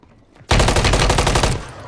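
Rapid burst of automatic gunfire in Fortnite Rebirth solos, loud and close, a dense rattling volley lasting about a second before cutting off.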